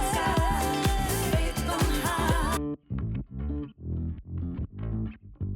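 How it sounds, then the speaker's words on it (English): A disco house bass line runs through a Studer tape machine emulation. A full, dense mix plays first, then it drops to the bass alone: punchy, saturated plucked notes in a regular rhythm, close and loud. "I then put the Studer on. And I like real bass going through tape a lot of the time."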